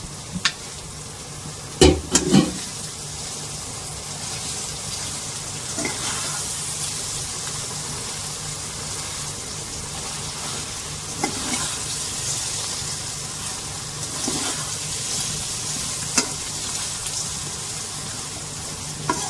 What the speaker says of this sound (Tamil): இந்த மாதிரி கிண்டும் போது அடுப்பை சிம்மில் வச்சுட்டு கிண்டுங்க